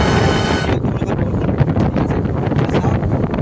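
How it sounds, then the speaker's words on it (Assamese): Steady wind buffeting a microphone, a continuous rough rumbling roar with gusty swells throughout and a brief higher hiss at the start. "ধুনীয়া বতাহ কৰি আছে"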